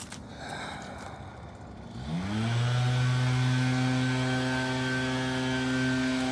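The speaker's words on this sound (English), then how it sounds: "Maybe he'll stop leaf blowing here in a minute." A leaf blower runs somewhere in Saint Paul's Cemetery, its motor rising into a steady, droning hum that holds at moderate volume after a quieter, hissy opening.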